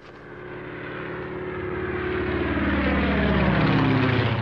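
A propeller airplane engine drones in a steady, loud roar that swells gradually as the aircraft draws nearer during a chase, with no one talking.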